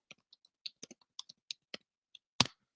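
Typing on a computer keyboard: about a dozen sharp, separate keystroke clicks at an uneven pace, close and fairly quiet, ending with one louder clack, with no talking.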